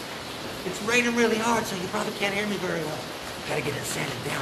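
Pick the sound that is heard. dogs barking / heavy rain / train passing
heavy rain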